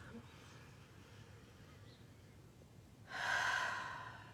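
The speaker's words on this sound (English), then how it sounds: "Let's take a breath" A deep breath drawn in during a guided meditation, a single loud inhale near the end rising out of a quiet room hum.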